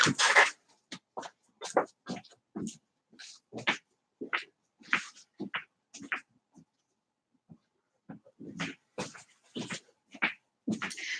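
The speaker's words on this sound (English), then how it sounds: "She's out there walking her dog." A neighbor's dog outside while she walks it, giving a run of short, fairly distinct yips and whimpers spaced through the stretch with brief quiet gaps between them; no one talks.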